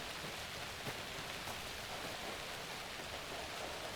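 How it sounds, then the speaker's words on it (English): Steady rain drums on a roof in the video game Alan Wake II, a dense continuous hiss that holds even and fairly loud throughout, with no voices. "I can hear rain hitting the roof too."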